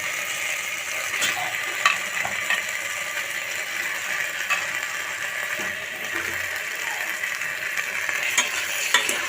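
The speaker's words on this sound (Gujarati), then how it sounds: "તો બધા મસાલા મિક્સ થઈ ગયા છે હવે રીંગણા નાખી દે" Eggplant tossed into a spiced masala in a pan, frying with steady sizzle while a spoon stirs and scrapes in irregular clicks and clatters, close by with no talking.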